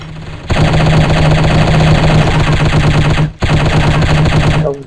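Rapid automatic gunfire from a shooting video game, loud and near, sustains in dense bursts with one brief gap before resuming, no talk over it.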